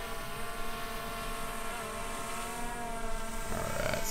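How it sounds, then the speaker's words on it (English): A Power Egg X drone flies low over water before a water landing, its steady propeller whine humming with slight pitch shifts and swelling louder toward the end, with no talking. "It's the first time I've ever landed a drone on the water."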